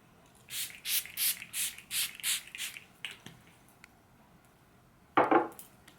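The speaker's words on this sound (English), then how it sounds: "Let's just spray the pink lotus." Pink lotus aura spray mist pumped in a steady run of about seven close, breathy hisses, followed by a pause, a faint tap and one final louder spritz.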